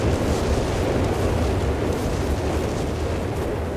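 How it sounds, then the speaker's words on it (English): A dense, continuous roar of artillery explosions hits a village in the Company of Heroes 3 video game, loud and rumbling with no pause. "artillery fire here"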